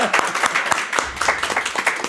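A short burst of applause for Rane during a hypnosis stream, dense claps close and steady over laughter and talk.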